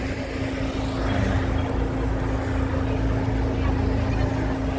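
Steady, loud engine drone of a jeep carrying passengers on a hot day near the Kerala–Tamil Nadu border, a continuous rumbling hum with a constant tone and no pauses.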